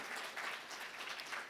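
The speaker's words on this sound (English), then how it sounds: "let's hear a good round of applause for my panel" Audience at a gold finance conference applauds a panel, continuous mixed clapping from many hands, moderately distant and fairly soft, with no talking over it.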